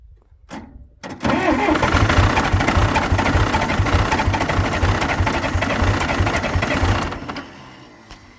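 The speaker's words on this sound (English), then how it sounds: "So let's run our glow plugs for just a little bit, and we'll get her started." A cold Farmall 504 diesel tractor cranks after its glow plugs are warmed, catches within a second and settles into a loud, rough, rhythmic idle for about six seconds before the sound drops away.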